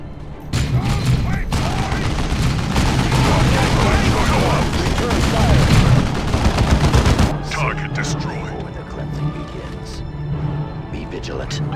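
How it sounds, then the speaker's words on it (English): Dense rattling gunfire and bursts of shooting from Warhammer 40K: Dawn of War 2 pour out almost nonstop for several seconds, then thin into scattered shots and booms, with battlefield voices mixed in. "Return fire."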